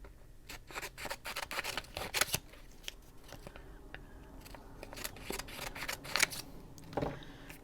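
Scissors cutting paper pieces into smaller sizes during an adult coloring craft session, with quiet, close snips coming in quick irregular bursts and short pauses between them.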